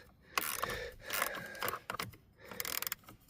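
A socket wrench clicking as it loosens fasteners during removal of the ignition lock cylinder on a 2010 Mercury Mariner, several bursts of close, fast ratcheting separated by short pauses, no voices.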